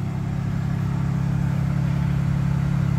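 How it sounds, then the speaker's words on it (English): A 2025 BMW M4 Competition running just after a remote cold start, its engine holding a steady, fairly loud low idle drone from nearby with no talk. "that's what the cold start sounds like"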